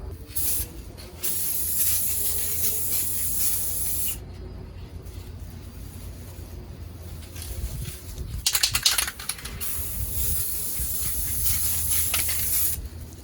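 A 12-ounce spray paint can hissing onto the roof of a 2011 Jeep Grand Cherokee in long sustained bursts, with short pauses and a sputtering patch partway through, close and loud.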